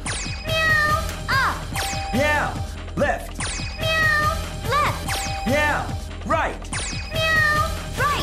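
Repeated synthesized cat meows from the Space Channel 5 VR rhythm dance game, arriving in regular bursts over a looping musical backing, loud and close.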